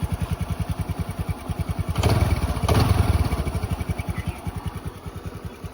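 A 2013 Honda Activa scooter engine idling with a steady, rapid putter, briefly revving louder in the middle before easing back to a smooth idle.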